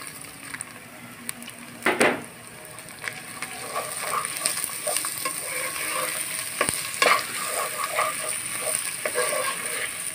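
Dry ground rice sizzles and scrapes in a hot pan as it's stirred, with a few sharper clatters of a spoon against the metal.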